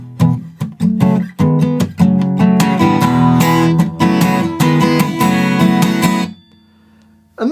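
Acoustic guitar strumming a chord line from a song, first played softly in rhythmic strokes, then repeated louder and fuller, ending with a ringing chord that fades to near silence.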